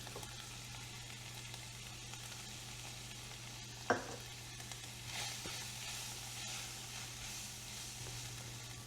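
Ground beef, browned vegetables and tomato paste stirred in a pan, a soft scraping and faint sizzle running steadily, with one sharp knock of the spoon partway through.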